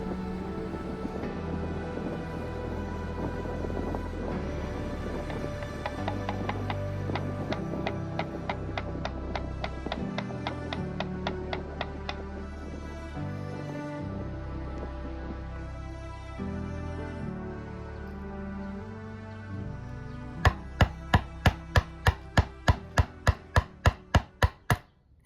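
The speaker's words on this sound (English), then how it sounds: "More chisel action." Chisel tapping to cut hinge mortises in wood for a hand-tool-built tool cabinet, a long run of steady rhythmic taps that ends in a brisk, louder series of sharp strikes.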